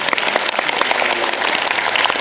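An audience claps for the director at a film festival Q&A screening of Mogadishu, with a dense, steady patter of many hands close by throughout, uninterrupted by voices.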